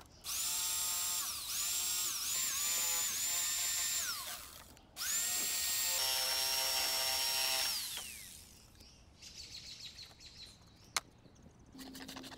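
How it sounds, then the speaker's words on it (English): A jigsaw cuts entrance holes in chipboard for a pallet-wood chicken coop, loud whining buzzes in several bursts with rising and falling pitch, separated by brief pauses, then quieter handling clatter. "then used the jigsaw to cut them out"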